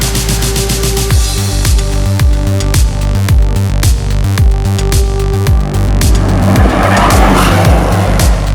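A Hyundai Kona N is driven hard at a performance shootout, with loud engine bursts, rapid gear shifts and repeated sharp tire squeals, ending in sustained skidding screech.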